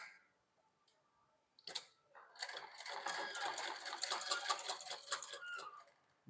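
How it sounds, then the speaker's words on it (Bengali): A sewing machine starts after a few faint clicks, then runs a fast, even burst of stitching on fabric for several seconds before stopping, close and fairly quiet. "ব্যাকা করে সেলাইটা মেরে নেব।"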